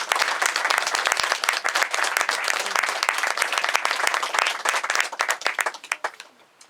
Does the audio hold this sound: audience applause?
yes